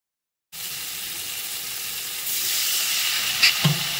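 After a moment of silence, tomato with salt and turmeric hisses in a hot pan, a continuous close sizzle that swells slightly louder partway through, with a couple of faint utensil knocks near the end.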